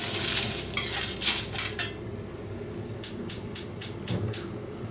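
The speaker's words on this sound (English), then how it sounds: "I am dry roasting black pepper, cumin, red chili and Shah Jeera" Black pepper, cumin, red chilies and shah jeera dry roasting in a pan, tossed with a quick burst of rattling scrapes, then a second run of evenly spaced, rhythmic scraping strokes, close up.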